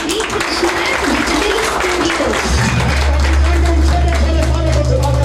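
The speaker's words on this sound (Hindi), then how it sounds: "मैं चाहूंगा इनका स्वागत के लिए एक जोरदार ताली" Applause from the audience welcoming a speaker at a herbal products seminar. Continuous clapping fills the room under a loud, booming amplified hum and some background voices.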